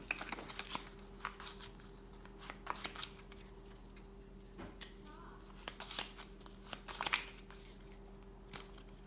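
Playing cards being shuffled by hand for a squares pool draw, with repeated crisp riffles and flicks in short bursts against a quiet room hum.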